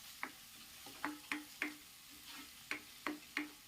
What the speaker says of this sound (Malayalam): ഇനി നമുക്ക് നല്ലതുപോലെ ഒന്ന് വഴറ്റിയെടുക്കാം.